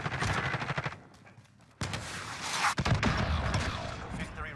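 Enemy gunfire in Warzone, with rapid bursts of automatic shots at the start and again after a short pause. The shots are mid-distance and dense, and there is game noise and a sharp impact partway through.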